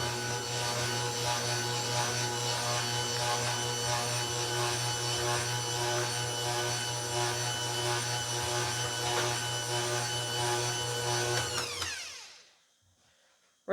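Electric stand mixer beating buttercream frosting with icing sugar, a steady close motor whir with a constant hum that runs loud throughout, then winds down and stops near the end.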